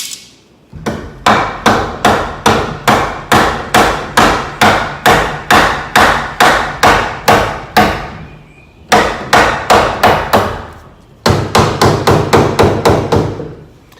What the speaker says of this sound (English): slightly tap on it till I get it somewhere in the neighborhood of right in here